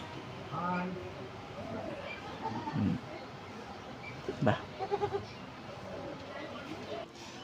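Two baby yellow bird chicks calling indoors, a few short chirping cheeps rising in brief clusters over faint background hum and murmuring voices.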